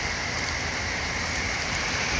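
Steady rain falls on a river during a fishing trip, a dense, even hiss at close range that stays constant throughout, with no voices.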